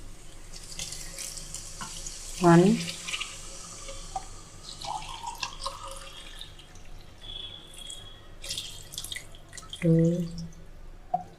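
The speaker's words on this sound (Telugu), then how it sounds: "నేను 2 గ్లాసులు రైస్ పెట్టుకున్నా కాబట్టి 4 గ్లాసులు వాటర్ పోయాలి." Glass by glass, water is poured into rice for veg biryani, the splashy, gurgling pours arriving in two clear bursts over quiet kitchen background, while a woman counts aloud.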